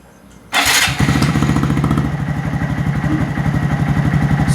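A 2019 Honda Monkey motorcycle fitted with a Yoshimura full-system race exhaust starts up: after a quiet moment the engine catches abruptly and settles into a loud, close, steady idle with a rapid, even thumping pulse.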